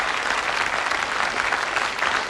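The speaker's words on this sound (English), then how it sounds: "I think that's worth a round of applause" Steady, dense applause from a studio audience on a darts-themed television quiz show, a continuous wash of clapping at even loudness from start to finish.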